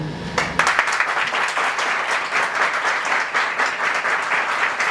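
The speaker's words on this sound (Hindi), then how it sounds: "तालियां रुकनी नहीं चाहिए।" Audience applause fills a hall at an industry company event, a dense, steady wash of many hands clapping throughout after a brief quieter moment at the start, with no talk over it.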